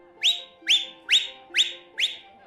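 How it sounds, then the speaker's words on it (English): Five shrill, rising whistle blasts repeat at an even pace, loud and close against a faint low background murmur. "gave a shrill whistle, cutting through the stamp of hooves and the soft rumble of chattering voices"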